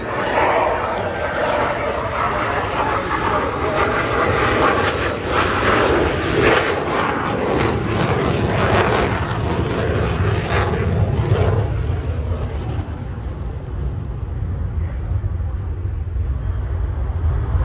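Fixed-wing propeller aircraft passing overhead at the Abbotsford air show in Canada, a loud broad engine roar that swells and then fades away, with someone talking throughout.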